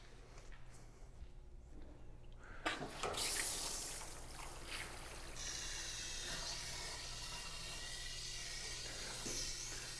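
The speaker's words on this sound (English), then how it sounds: "So there it is, and we'll water it in." Water pours onto the ground around a newly planted American elm tree, a soft hiss that starts after a few seconds of quiet handling noise and then runs steadily to the end.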